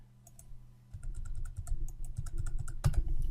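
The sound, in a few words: typing a password on a computer keyboard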